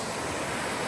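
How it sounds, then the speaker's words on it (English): A small rushing stream with a mini waterfall beside the Appalachian Trail on a warm, overcast day, heard as a continuous close, loud wash of water. "Nice little rushing stream, little waterfall, mini waterfall."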